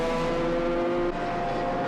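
A Corvette GT race car howls along the track at the FIA GT race in Dubai, a steady loud engine drone holding high revs, with a slight dip near the end.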